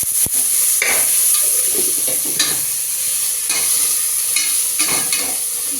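Mint leaves and kasuri methi fry in hot oil as a tempering for palak pulav, giving a loud continuous sizzle with frequent scraping stirs of a spoon in the pan.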